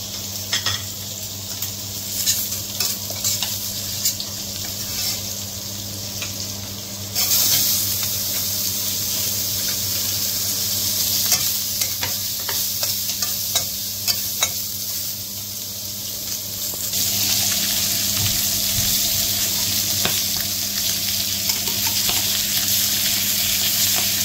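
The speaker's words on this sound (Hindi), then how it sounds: "फ्राय करचे पडटा." Masala spices for a Goan rohu fish curry fry in hot oil, giving a loud, continuous sizzling hiss that swells louder partway through as the mixture is stirred, with occasional scraping taps.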